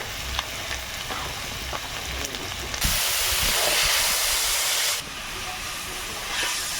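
Spices sizzle and hiss loudly in a hot pan for a Bengali river fish curry with pumpkin, the sizzle surging into a dense steamy rush midway as water hits the pan, then easing back to a steady frying hiss.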